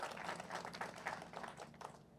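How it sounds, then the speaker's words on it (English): Audience applause at a Louisville event about a $75 million housing development in Russell, a steady wash of clapping at moderate level lasting a couple of seconds before tapering off. "You should applaud louder for that."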